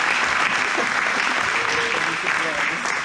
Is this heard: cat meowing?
no